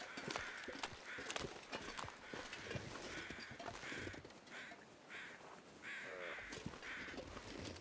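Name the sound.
crows cawing in video game The Long Dark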